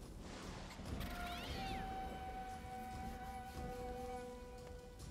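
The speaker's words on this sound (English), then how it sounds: "I can hear his chittering and the meowing" A cat lets out one drawn-out, wavering meow near the start, under a steady electronic drone and faint background sounds.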